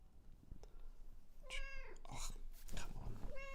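A sick cat with failing kidneys meows several times in close succession, each meow clear and near, with faint background noise between calls.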